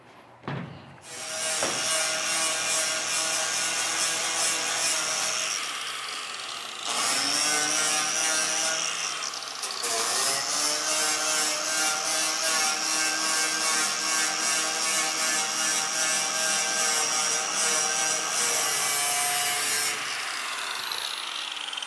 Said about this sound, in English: Let me clean up this aluminum here.